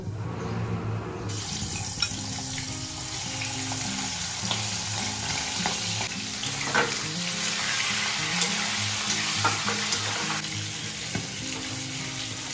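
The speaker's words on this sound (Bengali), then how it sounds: "এবার চিকেনটাকে ফ্রাই করব।" Chicken frying in a hot kadai with a little turmeric, a dense steady sizzle filling the clip, close and loud, with occasional clinks and scrapes of stirring and no voices.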